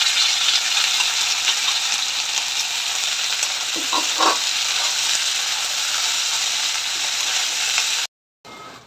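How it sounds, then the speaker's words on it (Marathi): Jackfruit pieces frying in hot oil, a loud continuous close sizzle with a few stirring scrapes, cutting off abruptly near the end. "तेल गरम झालेलं आहे आपण फणस टाकून फ्राय करून घेऊया"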